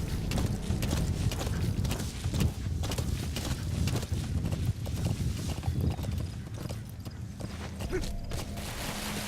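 A horse galloping in Metal Gear Solid V: The Phantom Pain, with continuous close, rapid hoofbeats and creaking tack over a steady background, no talking.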